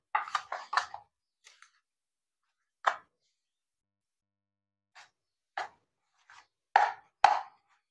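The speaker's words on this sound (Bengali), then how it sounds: "এবার আমি এখানটায় মিক্সড করে নিচ্ছি।" Homemade yogurt is stirred into semolina idli batter in a bowl: a quick cluster of wet, sticky plops and scrapes, then scattered single squelches separated by silence, close and fairly quiet.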